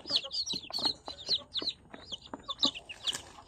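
Three-day-old Rhode Island Red chicks peep continuously in high, rapid chirps, several overlapping up close in a busy, uneven chorus, with no talking.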